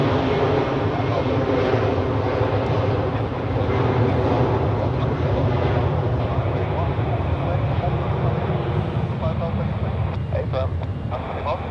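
A jet airliner rolls for takeoff at Zurich Airport, a loud, continuous broadband engine roar that holds steady throughout, heard from a distance with someone talking over it.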